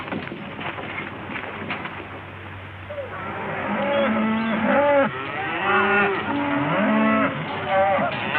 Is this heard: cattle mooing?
yes